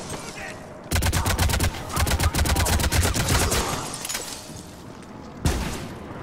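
Rapid automatic gunfire in the sci-fi shooter Mass Effect 3 multiplayer, a loud rattling burst of evenly spaced shots, then quieter pops and one final sharp shot.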